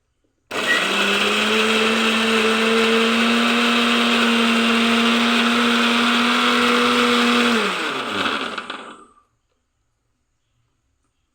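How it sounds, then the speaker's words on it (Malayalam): An electric mixer grinder blends ginger and curry leaves, its motor whining loud and steady for about seven seconds before winding down and stopping, leaving silence. "ഇത് നന്നായി ഒന്ന് മിക്സിയിൽ നിന്ന് വരട്ടിയെടുക്കാം"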